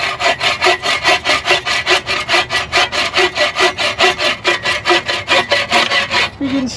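Hand saw ripping through a board in a shack being upgraded, steady back-and-forth strokes in a fast even rhythm, close and loud, with no talking.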